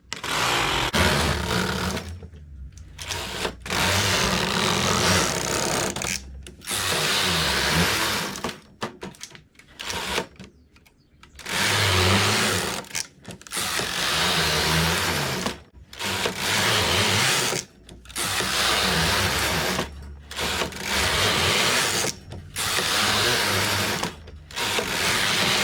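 A knitting machine with ribber runs repeated carriage passes knitting rows of lined adult shorts fabric, loud whirring rattling sweeps of a few seconds each separated by short pauses, alone without talk.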